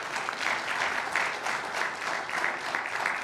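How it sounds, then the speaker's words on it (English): Steady, dense audience applause at a day-three session of the ARIN 55 meeting, many hands clapping evenly at a fairly loud level throughout with no break. "I'd really like to give them a round of applause"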